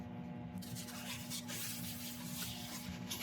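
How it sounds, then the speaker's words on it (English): Cloth wiping isopropyl alcohol across turned elm wood to lift dust from the grain, giving a steady, close soft rubbing that continues alone for the whole stretch. "On with the isopropyl alcohol just to get the dust out of the grain."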